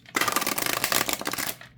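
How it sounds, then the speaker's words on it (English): Forest of Enchantment oracle cards, a set of wide, oversized cards, being shuffled by hand: a steady, close papery riffle and rustle that lasts about a second and a half, then stops. "Let's see how it shuffles."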